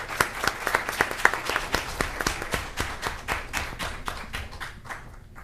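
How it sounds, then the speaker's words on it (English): An audience at a Union County freeholder meeting gives a round of applause for a runner-up school: moderate, steady clapping from a room of people that gradually thins and fades. "A big round of applause."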